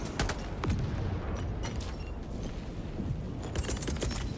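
Rapid burst-fire gunshots from a weapon in Helldivers 2, dense and loud throughout, with sharp repeated cracks over a busy, noisy game battle.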